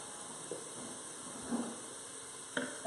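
Vegetables with carrots sauté in a pan for white bean chicken chili, giving a faint, steady sizzle with a few soft utensil taps and stirring scrapes.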